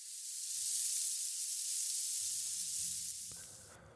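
A sizzling effect like food frying in hot oil: a bright, steady hiss lasting about four seconds with a faint low rumble toward the end, and no voices.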